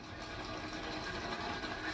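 A Pro Stock Camaro drag car idles at a Las Vegas drag strip, giving a steady, faint, buzzing engine drone heard from a distance.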